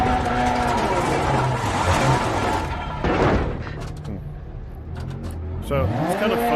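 In Dirt Rally 2 played in virtual reality, a rally car engine revs hard and rises through the gears. There are tire noises, a slight fault after a jump, and a person talking over the engine.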